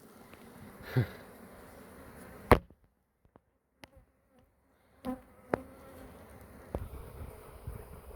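Honeybees buzz intermittently near the microphone while a beekeeper inserts a honeycomb frame into a hive, with a sharp knock and brief quiet stretches between bursts of humming.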